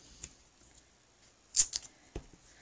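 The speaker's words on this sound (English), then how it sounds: "using my new scissors here." New scissors snipping through card paper for a shaped birthday card, a few short crisp cuts in quick succession, close and clear with no talk.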